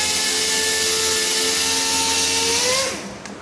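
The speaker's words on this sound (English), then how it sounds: "the air compressor turned on" An 80 gallon air compressor runs in a workshop with a loud, steady mechanical drone and whine, its pitch dropping as it winds down near the end.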